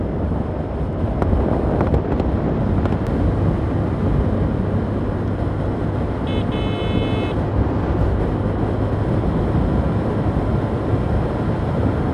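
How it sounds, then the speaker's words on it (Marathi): Steady, heavy wind rush buffets the microphone continuously, like air roaring past a Honda Unicorn 150cc motorcycle riding at 60 to 70, with a brief faint tonal beep partway through. "वारा छान"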